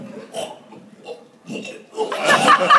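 A person lets out a loud, drawn-out belch near the end, after a few quieter throaty sounds and soft chuckles, close to the listener.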